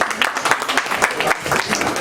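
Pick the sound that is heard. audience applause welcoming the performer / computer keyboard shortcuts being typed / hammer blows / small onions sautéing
audience applause welcoming the performer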